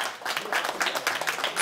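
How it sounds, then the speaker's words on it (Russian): Wedding guests applaud after a toast, a steady burst of clapping filling the room from start to finish at moderate loudness. "Ура, аплодисменты!"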